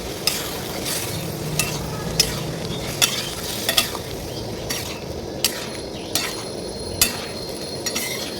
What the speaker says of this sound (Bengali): এরপরে ভালোভাবে এটাকে মিক্স করবো।